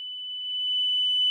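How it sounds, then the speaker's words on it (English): A very high-pitched, piercing synth tone from a funk song holds one steady, pure note that swells slightly louder over a second and a half. "it's that really high synth that doesn't seem like it should go as high as it goes"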